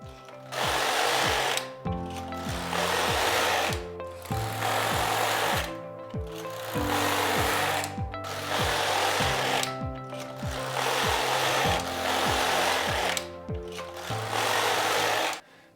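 A Passap Duomatic 80 knitting machine knits ribbing rows, its carriage rasping loudly across the bed in repeated passes of about two seconds, with brief pauses at each turn.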